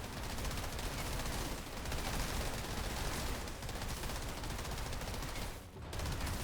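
Continuous gunfire in the video game Outriders, a dense, steady barrage of rapid shots with a short lull near the end.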